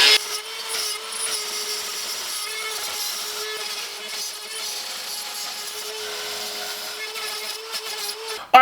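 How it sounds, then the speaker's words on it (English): A plunge router cutting a shallow 1/8-inch square groove in wood, a steady loud high whine with grinding texture that runs continuously before cutting off abruptly at the end. "we've got these cut out with the router"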